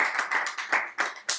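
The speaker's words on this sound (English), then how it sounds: "give a round of applause" Applause from a small group at a live stream event, a few seconds of uneven clapping bursts with short gaps, fairly close and moderately loud.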